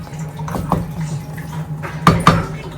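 Rice is measured out into a big cooking pot, with a few sharp metallic clinks and scrapes of utensil against pot, two near the start and two louder ones near the end, over a faint background hum.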